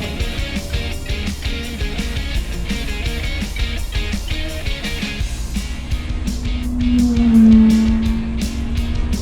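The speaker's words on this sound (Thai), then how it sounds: "เมื่อกี้แซงผมไปนะรถแข่ง" Audi R8 GT3 and GT4 race cars passing on a racing circuit during a bus safari hot lap, a steady engine roar with broadband mechanical noise and a rising pass swelling louder near the end, heard from inside a vehicle.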